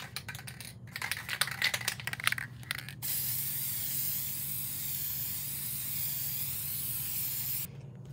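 An aerosol can sprays a quilted wall hanging outdoors in a few short sputtering bursts, then a long steady hiss for several seconds, close and fairly loud, before cutting off.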